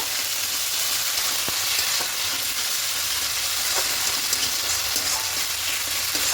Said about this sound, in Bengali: এবার আরও ভালো করে কষিয়ে নেব